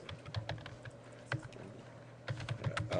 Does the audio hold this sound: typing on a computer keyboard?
yes